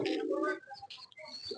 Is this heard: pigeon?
yes